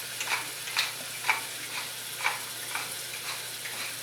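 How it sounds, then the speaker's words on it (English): A chuck roast sears in a hot pan, giving a quiet, steady sizzle with scattered small pops and crackles, and no voices. "Now this is going to sear until it releases"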